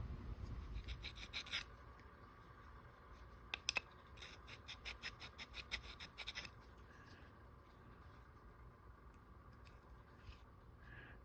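A file rasps in short bursts of strokes against the steel cutter of a Stanley #46 combination plane, close and fairly quiet, with a faint steady hum underneath and quieter scraping toward the end.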